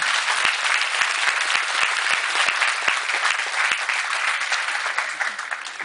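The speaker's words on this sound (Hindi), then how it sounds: "इन लोगों के लिए जोरदार तालियां" Loud, sustained applause from a seated audience at a network marketing meeting, welcoming first-time attendees, a dense wash of many hands clapping at once that fades slightly toward the end.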